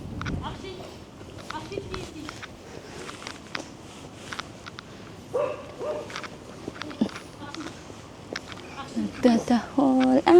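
A dog barking on a walk outdoors, several short scattered barks, louder near the end, among footsteps and people talking.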